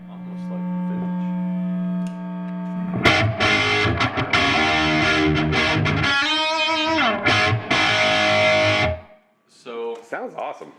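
An electric guitar plays through an amp's modern channel, starting with a sustained humming note and then breaking into loud, distorted chords and riffs before a brief pause.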